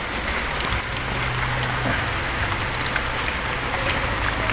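Heavy rain pours down steadily on a flooded street, a dense, continuous hiss and patter that stays loud and unbroken throughout.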